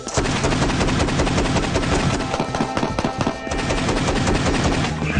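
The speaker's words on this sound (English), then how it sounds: "Hold it in, and I go fully automatic." An AA-12 automatic shotgun fires fully automatic, a loud, dense, rapid string of blasts that run together almost continuously for several seconds, close to the microphone with no talking.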